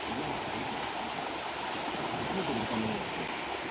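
A river in a jungle area, where crocodiles are said to live, flows steadily with a broad, continuous rushing wash that stays even throughout, with no other clear sounds standing out.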